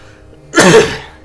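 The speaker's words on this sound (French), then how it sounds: "Désolé pour les éternuements." A single loud, close sneeze-like burst from a voice in a Pokémon game dub, sharp onset and about half a second long, standing alone against a quiet background.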